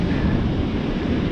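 Strong wind roars across a microphone on a beach while surf washes in behind it, a loud, steady broadband rush with no pauses.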